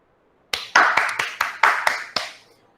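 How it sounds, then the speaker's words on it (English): Applause during an online nutrition-week session: about seven sharp, separate claps over two seconds, close and fairly loud, then fading to quiet, with no talk over them. "So can we all clap for her?"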